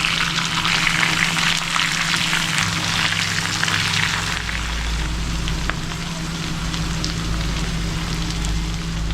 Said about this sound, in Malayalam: ഇനി അതിൽ കിടന്നിട്ട് മീനൊന്ന് ഫ്രൈ ആവട്ടെ.